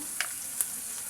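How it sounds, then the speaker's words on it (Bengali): Spice paste frying in a pan for a chicken curry gives a steady close sizzle, with a couple of faint stirring clicks and no voice over it. "মশলাটা ভেজে নেব।"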